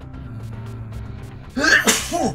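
A person sneezes close and loud near the end, a sharp two-part burst after a quieter stretch of soft background chatter.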